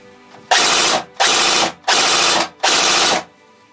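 A BO Dynamics 8969 airsoft rifle fires four loud, close bursts of rapid fire, each lasting about half a second with short pauses between them.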